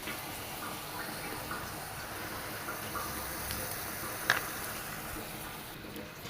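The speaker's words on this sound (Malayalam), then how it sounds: "ഇതിലൂടെ നമുക്ക് ഈ ശർക്കര പാനി അരിച്ചിട്ടൊന്ന് ഒഴിച്ചു കൊടുക്കണം" Jaggery syrup is strained and poured into hot ghee, giving a soft, steady liquid pour with faint sizzling. It stays quiet throughout, with one brief sharp clink.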